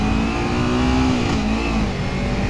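Kawasaki Ninja 300 motorcycle engine running close and loud as a continuous, steady drone with a slight rise and dip in pitch. Alone, with no talking over it.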